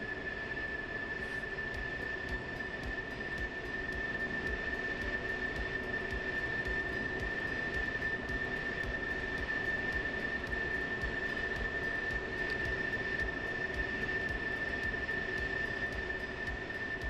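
A jet aircraft engine in the DCS combat flight game runs through start-up as a steady, loud whine with a strong high tone and a rumbling roar beneath, holding level throughout with no talking.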